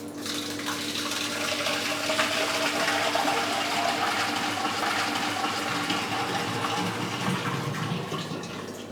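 About 10 kg of water pours steadily into a clay pot holding 25 kg of curd, a continuous loud gushing splash that runs for several seconds and then eases slightly, with no talking.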